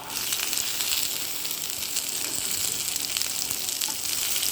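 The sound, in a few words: curry leaves and onion sizzling in pan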